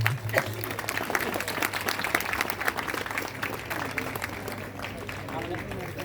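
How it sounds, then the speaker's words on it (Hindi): A ceremony audience marking International Day of Persons with Disabilities claps steadily in a sustained round of applause at moderate loudness, with a low hum running underneath. "चलिए एक बार जोरदार तालियां।"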